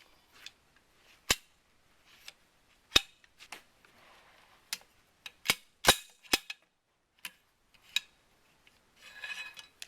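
Metallic clicks and sharp snaps from taking the bolt assembly out of a Winchester Model 100 .308 rifle, about a dozen crisp separate hits spread irregularly and close up, ending in a short scraping rub.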